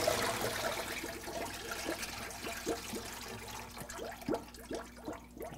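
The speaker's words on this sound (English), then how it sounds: "And you want to drain this water right out of there." Water pouring and draining from a pot of raw chicken parts being rinsed for stock, steady trickling and splashing with a series of gurgling drips and glugs, close up with no talking.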